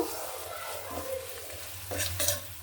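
Spices with coriander and cumin powder frying alongside eggs and potatoes in a pan, a steady close sizzle with a spatula scraping and stirring through it, growing busier toward the end.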